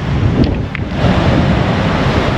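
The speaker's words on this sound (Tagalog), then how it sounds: "Ayun, solid yung alon mga tol." Strong ocean surf breaks onto the rocky beachfront at Balagbag Beach in Quezon, a steady, loud roar of waves mixed with wind buffeting the microphone and no talking.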